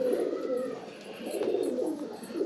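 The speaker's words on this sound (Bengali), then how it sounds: "এটাকে বেসিক্যালি বলে লাল মুশকি পায়রা" Red muski pigeons in a home loft give soft, repeated cooing. The calls overlap in a low, steady murmur, close by and moderately quiet, with no voices.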